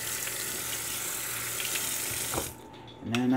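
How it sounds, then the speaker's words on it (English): Hands are washed at a sink in hot soapy water: steady splashing and running water for about two and a half seconds, then a brief lull before more sloshing. "I'm just gonna wash my hands real good."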